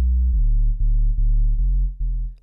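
Roland Zenology Pro 808 bass synth patch with pulse width harmonics plays a run of sustained low bass notes, five or six in a row with short breaks, loud and clean with no other sound.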